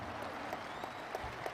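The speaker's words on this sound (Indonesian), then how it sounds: "Kita berikan tepuk tangan untuk Ketua Umum Partai Demokrat, Mas Agus Harimurti Yudhoyono." Steady clapping from a crowd at a political rally, a dense patter of many hands with a few sharper claps standing out, fairly distant.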